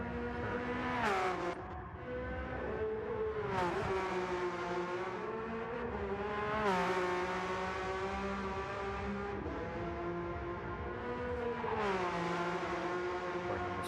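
A GT race car on the Nürburgring holds a loud, continuous engine note throughout, its pitch climbing through the gears and dropping sharply on each shift, with several rising sweeps as it accelerates and no talk.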